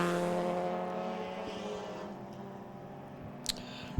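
Alfa Romeo V6 race cars lap the circuit at the Winton Festival of Speed, a steady engine drone that slowly fades into the distance, with a faint sharp sound near the end.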